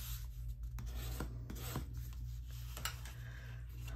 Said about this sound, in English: We can go ahead and fold and burnish that.